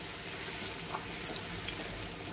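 Crushed garlic frying in hot oil with cumin, a steady dense sizzle throughout, moderately loud and close, with no talking.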